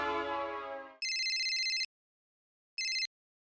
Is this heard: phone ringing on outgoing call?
yes